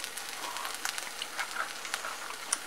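Garbanzo bean patties with tomatoes and onions simmering in a pan, a soft continuous sizzle with faint crackles and pops, quiet and close.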